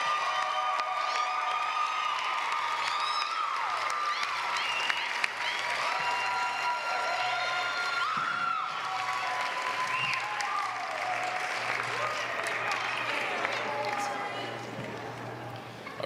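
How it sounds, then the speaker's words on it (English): A ceremony audience claps steadily for radiology technology students at an allied health pinning event, a dense, sustained wash of applause that holds evenly and tapers slightly near the end. "Let's have a big round of applause for our radiology technology students."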